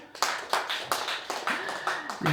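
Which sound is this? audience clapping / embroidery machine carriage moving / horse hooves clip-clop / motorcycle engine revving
audience clapping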